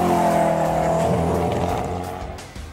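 Koenigsegg hypercar driving hard, a loud engine roar with strong harmonics that holds, then dips and fades slightly as the car moves away, no voices.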